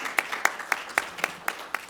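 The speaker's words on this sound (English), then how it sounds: "I'll tell him that he got a round of applause." Audience applause at a gathering on substance abuse among justice-involved youth: a steady run of about eight evenly spaced, fairly crisp claps that sound like a small group clapping together, moderately loud, with no talking over them.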